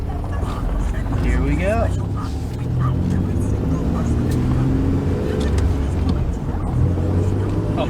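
A car with a 3.8 3800 engine that has a no-idle and mass air flow fault pulls away on its first drive, a steady low engine rumble continuing throughout, with someone speaking briefly at the start.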